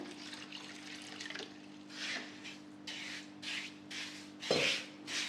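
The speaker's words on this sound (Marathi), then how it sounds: "या साखरेत साखर बुडेल इतकंच पाणी घालायचं" Water poured over sugar in a kadai to start a syrup, heard as a few short splashy bursts of pouring against a faint steady hum, with a brief clunk near the end.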